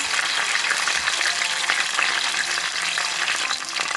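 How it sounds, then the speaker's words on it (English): Mustard seeds, methi seeds, curry leaves and green chilies frying in hot oil for a Kerala fish curry, a loud, steady, close crackling sizzle throughout, no voices. "here I've added oil, then mustard seed, now adding the methi seeds, curry leaves, green chilies"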